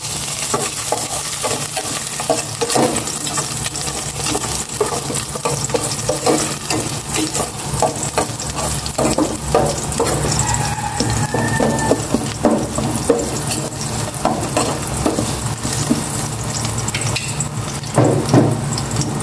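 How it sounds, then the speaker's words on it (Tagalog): Garlic sautés in oil in a cooking pot, a loud, close, continuous sizzle with frequent stirring scrapes and crackles running the whole time, with no voices over it. "Igisa ko na po itong bawang."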